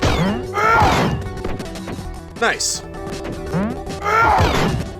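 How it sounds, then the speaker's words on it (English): Objects get smashed in the Wreck-It Ralph 3DS game, producing repeated whacks and crashes with game sound effects and a sweeping chime. A person comments briefly over the impacts. "Smashing things is kind of fun."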